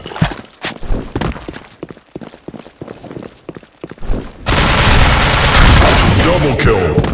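XM8 rifle fire in the shooter game Blackshot: sharp bursts of separate shots at first, then a dense, sustained roar of gunfire that carries loudly to the end.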